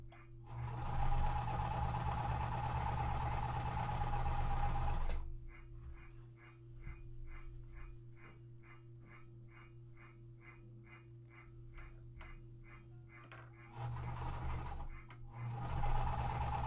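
A sewing machine chain-pieces quilt units under the presser foot, loud steady running at the start, a quieter rhythmic stitching stretch in the middle, then another loud burst of fast running near the end, with no talk.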